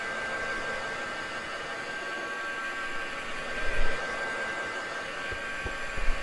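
A hair dryer blows steadily on freshly painted miniatures, a constant airy whoosh with a faint whine running unchanged throughout, close and moderately loud, with a few small knocks near the end.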